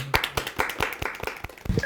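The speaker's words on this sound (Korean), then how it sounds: "박수로 환영해 주실까요?" A small audience at a forum on North and South Korean popular music gives a brief round of welcoming claps for an arriving speaker, the individual claps distinct and fairly even in rhythm, moderately loud and close, with no talk over them.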